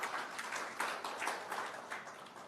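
An audience claps in welcome for a guest speaker, an economist, at a 2019 Independence Day lecture series, the dense, fairly steady applause swelling in small waves without any voices.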